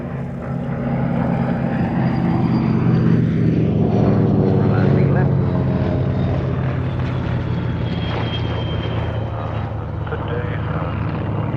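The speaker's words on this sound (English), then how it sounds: "Running in the 1938 formation, Spitfire 1A, Hawk 75, FM2 Wildcat, and Hurricane 1." A vintage propeller fighter drones past at an air show, in a formation of Spitfire 1A, Hawk 75, FM2 Wildcat and Hurricane 1, its engine roar rising and then fading steadily, with a voice faintly audible underneath.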